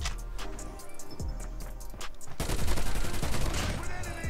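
Rapid gunfire from a new overpowered gun in COD Mobile, a dense burst of shots that swells louder after the first couple of seconds and carries on steadily to the end.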